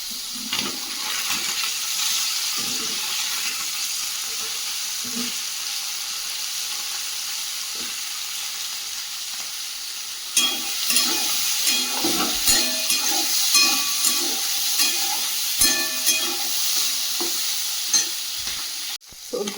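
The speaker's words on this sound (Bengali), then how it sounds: "সবজিটা খুব সুন্দর করে কষিয়ে নিয়েছি" Mixed vegetables sauté in a pan with very little oil under a constant sizzle, and partway through, a spoon stirs with scraping clatters close by.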